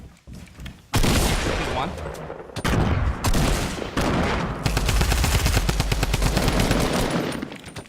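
Rapid bursts of gunfire in a Fortnite match crackle loudly in several sustained volleys with short gaps between them, while a player's voice speaks briefly over the shooting.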